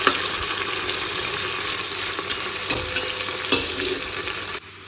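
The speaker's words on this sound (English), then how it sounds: "I'll add the onions and I'll cook them till they become translucent" Onions frying in a pan, a steady close sizzle and crackle running throughout with a few louder pops and stirring sounds, cutting off abruptly near the end.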